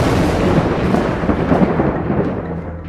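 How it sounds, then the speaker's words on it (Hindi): Thunder rumbles in a midday sky as clouds gather, a loud, deep, continuous roll that fills the whole stretch and fades slightly toward the end. "भरी दोपहर में अचानक पहले बादल गरजने लगे"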